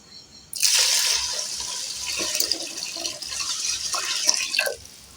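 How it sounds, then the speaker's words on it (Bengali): Water poured from a container into a khichuri and beef mixture in a pot, a steady close splashing gush that runs for several seconds before stopping abruptly. "এখন পরিমাণ মতো পানি দিয়ে দিচ্ছি"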